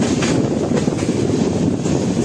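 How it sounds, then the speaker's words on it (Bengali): The 13149 Kanchan Kanya Express from Sealdah to Siliguri rolls along loudly from on board, with a heavy rumble and rhythmic clickety-clack of wheels on rail joints and no speech. "তো চলুন আবার ট্রেন ছাড়ুক"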